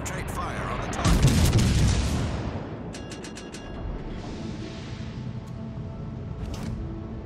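Heavy naval gunfire from warships in World of Warships Legends, with the battleship Hood in play: a loud booming salvo builds and rolls for about a second and a half, followed by sharp rapid reports and lingering rumble, alone without talk.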